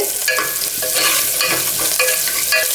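Whole small onions sautéed in a pan, with a steady close sizzle and rhythmic scraping strokes of a spoon stirring them, loud and continuous without talk.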